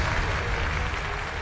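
A studio audience claps steadily in a dense, continuous burst of applause at a Thai televised talent show, briefly cheering on a young contestant.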